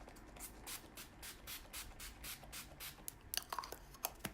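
Several quick hisses of Wet n Wild makeup setting spray misted close by, a string of short, faint bursts in even rhythm, followed by light handling clicks.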